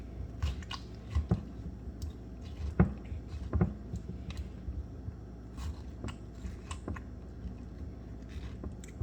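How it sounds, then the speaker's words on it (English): A spoon scrapes around the edges of a tomato, scooping out the inside with soft wet scrapes and sharp clicks in an irregular rhythm, close and fairly quiet. "I'm gonna use a spoon this big to go around the edges and take the inside of the tomato out."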